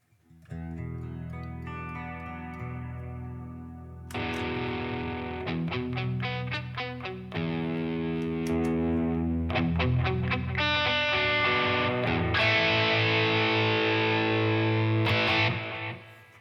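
An electric guitar played through a Headrush rig with graphic EQ, delay, IR, reverb and Dynacomp compression on, giving a thick, clean Marshall-style tone as it strums sustained chords with sharp attacks that ring out steadily for about sixteen seconds.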